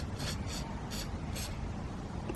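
Aerosol spray applied to archery arrows and the arrow rest, four short hissing bursts in quick succession, close and fairly soft against a low background rumble.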